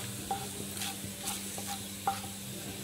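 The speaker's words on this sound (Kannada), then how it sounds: "ಇದಕ್ಕೆ ನಾವು ಸ್ವಲ್ಪ ಎಣ್ಣೆ ಕಾದ ಮೇಲೆ ಸಾಸಿವೆ ಮತ್ತು ಜೀರಿಗೆನ ಹಾಕೋತಿದೀವಿ" Mustard seeds and cumin in hot oil, a quiet low sizzle with soft stirring scrapes and a few small pops, fairly faint and close, no talking.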